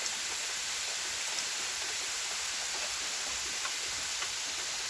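Greenhouse irrigation sprinkler nozzles spray water under pressure from a pump, a steady, even hiss of fine spray that holds constant throughout with no talking.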